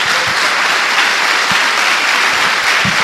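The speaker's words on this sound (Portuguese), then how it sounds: "Dê uma salva de palmas a Jesus." A church congregation claps loudly during a sermon, a full and sustained burst of many hands with a few low thumps mixed in and no voices on top.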